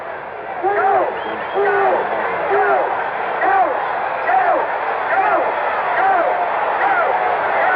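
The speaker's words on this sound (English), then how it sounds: "Crowd yelling, go, go in the background." A stadium crowd at the 1974 World Series game in Oakland fills the air with steady, loud yelling and chanting, rising in waves over a broadcast-quality background hum.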